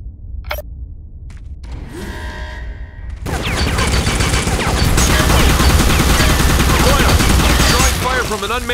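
Rapid automatic turret gunfire from the video game Secret Service, a few sharp isolated shots at first, then a dense sustained loud burst of continuous firing with metallic clatter.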